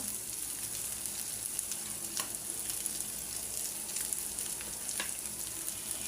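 Small fish frying in a pan with a couple of lemon leaves, giving a constant close hiss and crackle of hot oil, with occasional faint stirring scrapes and no voices.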